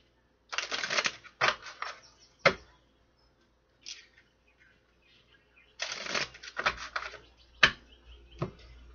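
An oracle card deck is shuffled by hand in quick bursts of riffling and flapping card sounds, close and crisp, with short pauses between rounds.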